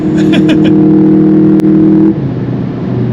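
A VW Golf 8 GTI Clubsport stage 1 engine hums steadily at high revs from inside the car, loud and droning, then eases off as the pitch drops.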